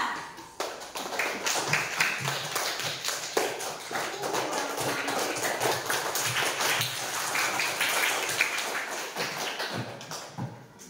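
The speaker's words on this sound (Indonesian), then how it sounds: "tepuk tangan dulu untuk Iva." Children in a primary school classroom clap their hands in a quick rhythmic burst of many sharp claps that carries on for several seconds, moderately loud and close, then trails off at the end.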